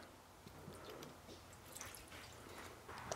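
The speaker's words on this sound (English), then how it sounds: "Water just falls right off" Water sheds off a freshly coated truck surface in faint scattered drips and soft trickles, quiet and close, with occasional brighter splashes near the end and no speech.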